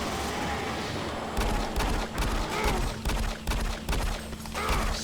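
Bursts of gunfire ring out in the video game Doom 3: The Lost Mission, a string of loud, closely spaced shots heard over a dense, rumbling game backdrop.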